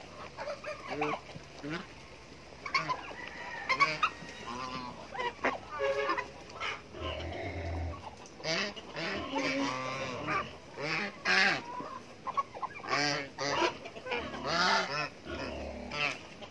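Geese honk repeatedly in a noisy, bustling flock on a small farm with turkeys and ducks, their calls overlapping with people talking nearby.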